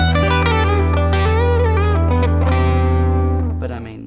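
Electric guitar played through distortion and effects: a sustained chord with a sharp karate-chop string bend, bending pitch up and sliding back, ringing loud and dense before fading at the end.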